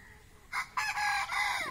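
Two country chickens scuffle, letting out a few short, loud squawks and clucks in quick succession over a quiet background.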